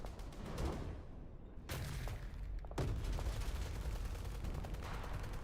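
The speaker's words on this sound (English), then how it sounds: "Countless bullets whiz above our heads as I take cover" Gunfire in the video game Love and Deepspace, dense crackling bursts with two sharper loud cracks over a continuous rumble of shooting, fairly quiet overall.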